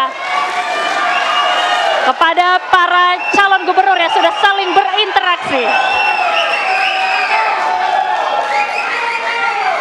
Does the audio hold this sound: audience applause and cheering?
yes